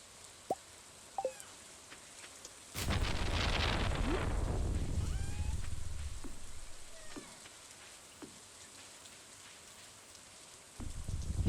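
Rain falls in Stardew Valley, a soft patter that swells suddenly into a loud rushing burst, then slowly fades back to a quiet drizzle with a few faint clicks.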